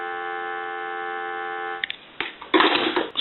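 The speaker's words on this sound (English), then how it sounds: "Go ahead and give you some dial tone." A steady, continuous telephone dial tone comes from a Western Electric 233G three-slot payphone being repaired and converted. The tone holds evenly for nearly two seconds, then cuts off into clunks and handling noise.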